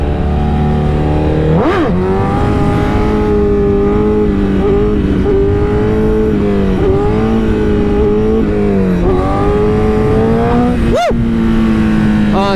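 A truck engine accelerates in second gear on a private road, a loud close drone whose pitch climbs and dips with throttle, with a couple of sharp rev shifts along the way.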